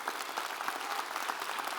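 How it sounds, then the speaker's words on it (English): A school-district State of the Schools audience gives a steady round of applause, a dense, even wash of many hands clapping with no talk on top. "round of applause."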